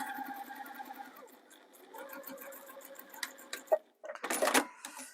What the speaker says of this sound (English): I like to sew from the open edge to the fold on both sides because that will make it even at the bottom